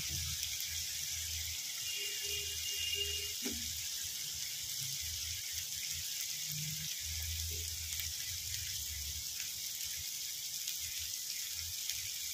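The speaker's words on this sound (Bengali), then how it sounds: "দেখো আমার মশলা কিন্তু ভাজা চলছে।" Spice paste with turmeric fries in oil in a pan for a pointed gourd curry, a soft steady high sizzle running throughout, with faint clinks and low background hum.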